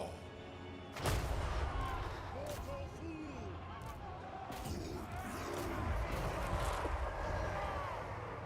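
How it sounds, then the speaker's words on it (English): A Hell Cannon firing in a Total War: Warhammer II battle: a heavy blast booms early, followed by rumbling explosions and battle noise with game voices calling out throughout. "good shot from the Hell Cannon"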